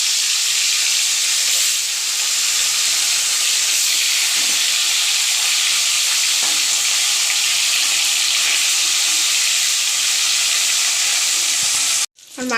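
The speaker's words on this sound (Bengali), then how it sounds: "আমার গরম হয়ে গেছে, আমি ইলিশ মাছটাকে ভেজে নেব" Hilsa fish frying in hot oil, a steady, loud sizzle and hiss that runs without a break for about twelve seconds and then cuts off abruptly.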